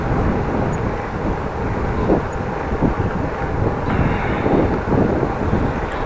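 Steady wind buffeting the microphone while riding a Dutch bike home on a commute, a continuous low roar with slight gusts and no talking.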